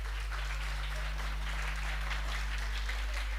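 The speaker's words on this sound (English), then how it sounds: "please clap for your principal, sir" An audience at a conference day claps for a school principal, a fairly quiet, even patter of applause over a steady low electrical hum.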